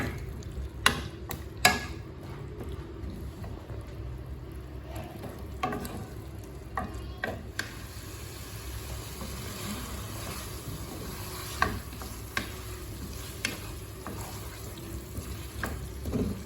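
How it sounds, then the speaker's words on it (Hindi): Potato pieces fry in a pan for a green capsicum and potato masala, a steady close sizzle broken by sharp clicks and scrapes as they are stirred, with no talking. "आलू शामिल करने के बाद हम इसे इसी तरीके से 3 से 4 मिनट भून लेंगे।"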